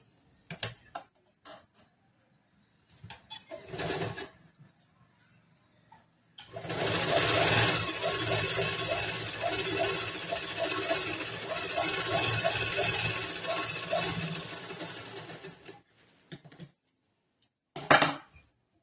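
A sewing machine runs steadily for about nine seconds, stitching a folded blouse hem, with a few short bursts and handling noises before and one sharp knock after.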